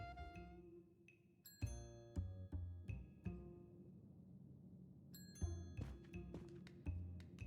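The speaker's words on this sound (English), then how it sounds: "Oh, hear a bell." A bell rings out in a series of clear, struck tones, a few ringing notes in quick bursts with pauses between them, fairly faint overall.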